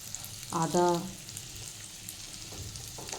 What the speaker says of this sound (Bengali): জিরে আর হিং দিয়ে ভালো করে ভাজলাম।